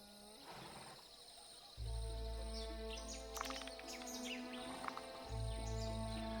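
Forest ambience of the Grove faction in the fantasy strategy game Heroes Olden Era, with bird calls and chirps scattered over sustained layered tones and a deep low drone that drops in and out.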